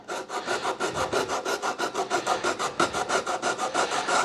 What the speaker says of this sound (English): It's mostly a pull cut on this saw because it's very flexible and it doesn't have enough rigidity for you to push on it a lot.